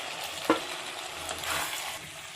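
Egg chilli fry sizzles softly in a pan, a low steady frying hiss with a sharp clink of a utensil near the start and a gentle stirring swell after it.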